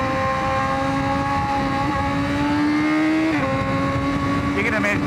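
A Honda CBR1000RR-R motorcycle engine held at high revs, loud and close, stepping through quick instantaneous gear shifts with brief pitch drops around the middle and end, a voice talking over the engine noise.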